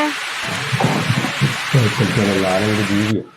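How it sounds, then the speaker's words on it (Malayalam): Heavy rain pours in a steady, loud broadband hiss that runs under several people talking nearby, then cuts off abruptly at the end. "നല്ല മഴ അങ്ങനെ പെയ്യുന്നുണ്ട്"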